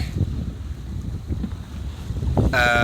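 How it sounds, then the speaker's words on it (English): A Maxi 95 sailboat sailing out from Plymouth Sound toward the Eddystone lighthouse, with steady wind buffeting the microphone and a rushing wash of water throughout, growing louder near the end, where a brief whistling tone rises. "So I'm just in the process of sailing out round the Eddystone light"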